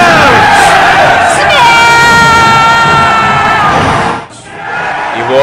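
A crowd roars and shouts battle cries in a dense, loud wall of voices, with sustained sung or chanted tones on top, before dropping off abruptly near the end and then rising again.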